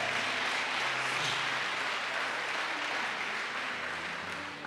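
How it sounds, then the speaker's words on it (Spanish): A church congregation during a sermon by a pastor gives a long, continuous round of applause, a dense, even wash of clapping from many hands that fades a little at the end. "Den un aplauso al Señor"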